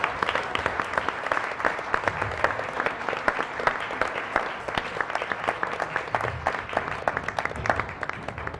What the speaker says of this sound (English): I'd like to give another round of applause to each and every one of you